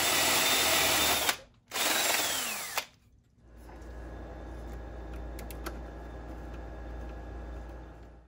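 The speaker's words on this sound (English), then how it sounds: "So I wanna drill right next to it basically and run my cable up." A power drill boring into a wall beside a box to run TV cable, two loud whining bursts of drilling close by, followed by quieter handling noise and a low hum.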